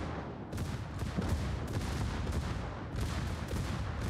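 Rapid secondary guns on a warship in a World of Warships-style naval battle, firing in repeated sharp bursts with a sustained loud rattle of overlapping shots across the whole stretch.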